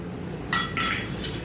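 Metal cookware clinks as a pan is set on the stove, giving two or three short, bright metallic knocks in quick succession against a quiet kitchen background.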